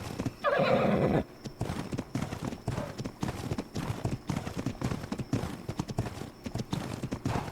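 Horse from the survival game Ark Survival Evolved: one loud, close whinny opens the clip, then a steady run of clip-clopping hoofbeats continues alone to the end.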